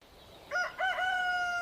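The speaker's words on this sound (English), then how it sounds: "I can still hear the rooster." Rooster crowing on a farm: a single clear crow, rising and then held as a long, fairly faint call, with no other sound around it.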